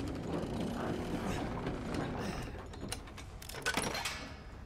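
A mechanism is cranked in Resident Evil Village, giving a run of ratcheting, gear-like clicks and creaks at a moderate level, with louder clanks toward the end.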